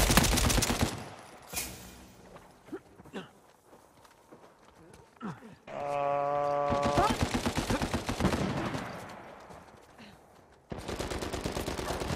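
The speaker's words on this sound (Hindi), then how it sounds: "बस स्पीड में गोलियां आ रही है इनकी यार" Rapid automatic gunfire from the video game Uncharted 4 crackles in dense bursts at the start, middle and end, with scattered single shots, footsteps and game effects between them, and a player talking over parts of it.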